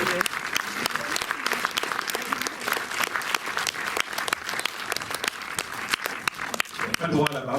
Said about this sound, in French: Bah oui, il faut l'applaudir.